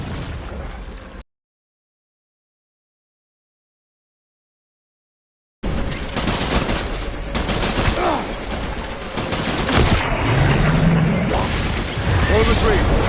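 Heavy gunfire and explosions in a PS4 war game roar in a dense, continuous barrage after a few seconds of silence, with people talking over the chaotic battle noise.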